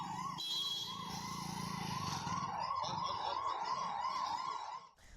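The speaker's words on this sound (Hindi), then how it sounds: "मनीष जी, ये बताएं कि 10 मिनट तक एम्बुलेंस को रोका गया, बहुत बड़ी बात है।" An ambulance siren wails continuously on a road blocked by a crowd, a rising and falling electronic tone over traffic noise that cuts off abruptly at the end.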